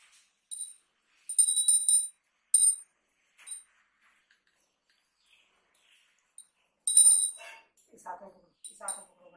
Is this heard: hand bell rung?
yes